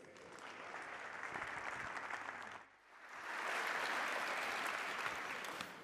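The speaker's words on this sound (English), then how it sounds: "Another round of applause, please, for Chef Hywel." An audience applauds a chef at a culinary demonstration, a sustained round of clapping that briefly dips and then swells again, fairly distant.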